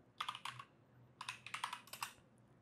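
Quick bursts of keystrokes on a computer keyboard as a docker command is entered in a terminal, two clusters of fast taps separated by a short pause, close and clear.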